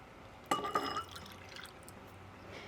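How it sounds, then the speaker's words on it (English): Two ounces of water poured into hojicha powder, a short splashing trickle of about half a second before settling into quiet room tone. "we have 2 ounces of water in here that we're going to pour in."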